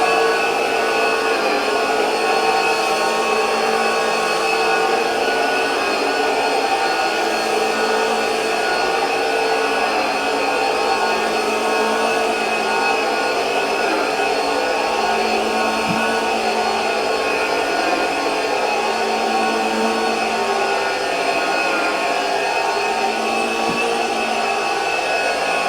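A Lindhaus carpet cleaning machine runs steadily with its brush spinning at 4,000 RPM, working cleaning product into carpet for encapsulation cleaning; a loud, continuous whining drone holds throughout with no talk.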